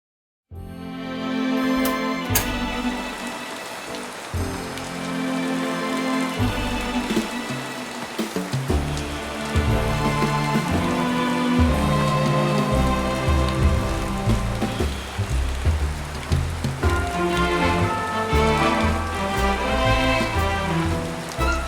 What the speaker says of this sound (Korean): 빗소리는 언제 들어도 참 좋은 것 같아요.